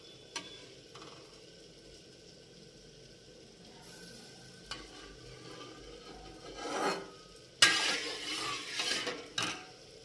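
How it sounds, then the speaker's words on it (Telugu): Cooking oil poured into a kadai and stirred: a quiet stretch, then scraping and rasping sounds swell in the second half, with brief sizzle-like bursts, close and moderately loud. "ఇప్పుడు ఈ ఆయిల్ కడాయిలో పూర్తిగా వేస్తాను."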